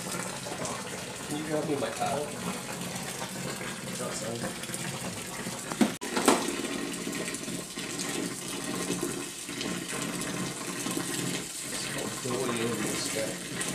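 Mash water pouring into grain during an all-grain ESB brew day, a steady gushing flow with a brief clatter midway, under casual talk between brewers.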